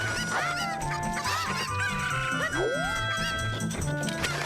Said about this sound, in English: You gotta slash your chickens in order to make them go fast.